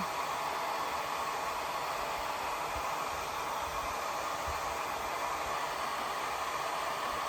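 A hair dryer blows on a watercolor painting of a rose, a loud, steady, close airy whoosh that holds constant from start to end.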